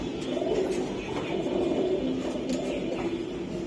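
A male pigeon coos nearby in low, rolling, repeated phrases that carry on steadily throughout, with faint background noise.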